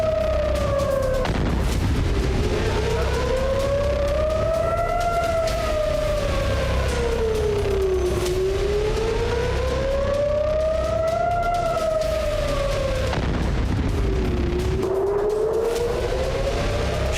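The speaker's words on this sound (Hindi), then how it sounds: "शनिवार की रात इजराइल की राजधानी तेल अवीव समेत कई शहर सायरनों की आवाज से गूंजते रहे" Civil defense air raid sirens wail over Tel Aviv during a missile attack, a loud rising-and-falling tone repeating in slow cycles with no talk.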